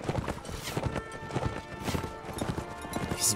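Horse hooves pound in a steady galloping clip-clop in Mount & Blade Warband, with overlapping battle noise and brief whinnies, loud and continuous throughout.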